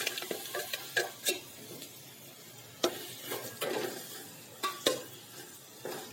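Jaggery stirred into hot oil in a pan while making puffed-rice laddoos: a soft, steady sizzle broken by repeated scraping spoon strokes and light clinks, close and moderately loud, with no voices.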